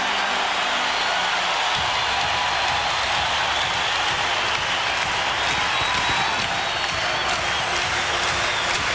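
A Portland arena crowd roars and cheers steadily during a Lakers timeout at a 1991 playoff basketball game, a loud, dense wash of applause and voices throughout.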